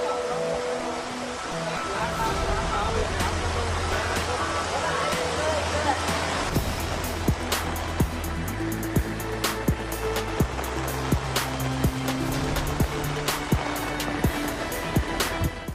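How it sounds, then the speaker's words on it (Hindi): Monsoon floodwater rushing through swollen rivers in Gujarat, a broad, steady roar of churning water with scattered sharp splashes and knocks, loud and continuous. "कई नदियां और जलाशय इस वक्त पूरे उफान पर हैं, जिससे निचले इलाकों में पानी भर गया।"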